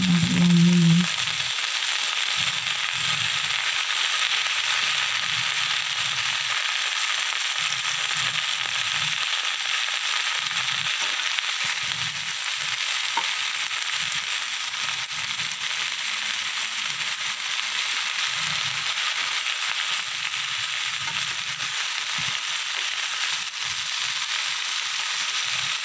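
Water spinach (kangkung) stir-fries in a hot pan, a steady loud hiss and sizzle, while occasional low clatters and scrapes mark the leaves being turned over and over.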